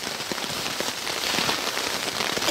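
Heavy rain drums on a tent during a long-distance hike in Norway, a thick, close, continuous patter with no speech.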